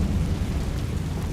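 The Incendio fire spell in Hogwarts Legacy gives off a dense, low roaring whoosh of flame, loud and continuous for about a second with a rumbling crackle.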